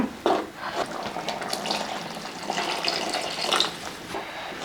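Water splashes and gurgles as it is poured steadily into a cooking pot of okra curry, a soft continuous trickling with small bubbling surges.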